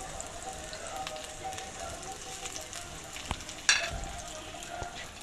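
Small carrot pieces frying in a pan, a faint steady sizzle with a few light clicks and one sharper clatter near the end, no talk.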